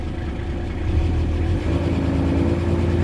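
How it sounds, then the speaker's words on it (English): A Nissan Patrol diesel engine idles with a low, steady rumble, then is revved slightly and holds at a higher, louder pitch. "and we'll just give it a bit of a rev."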